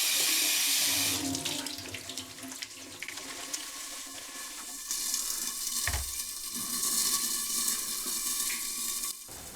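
Tap water runs steadily into a kitchen sink as fresh basil is rinsed under it, a continuous close splashing stream with brief shifts as the leaves are moved, no talking.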